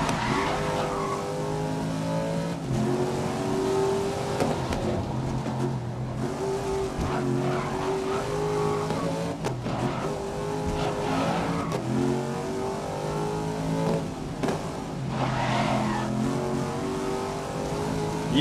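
A race car in the video game GRID 2019 revs and accelerates through corners, its engine note rising and dropping in repeated surges, with brief tire squeals and no voices.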